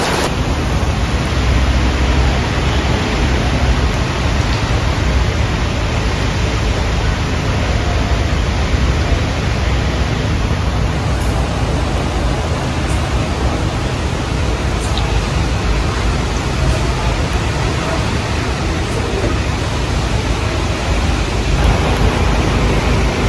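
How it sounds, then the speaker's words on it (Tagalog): Steady, hissing rainfall fills the whole stretch, an even unbroken wash of noise with no voices over it. "May ulan pa rin."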